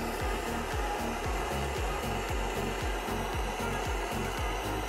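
A heat tool blasts a steady, loud whooshing roar while warming a stubborn rear axle nut on a Porsche 924, with a rapid, regular low thumping pulse running underneath throughout.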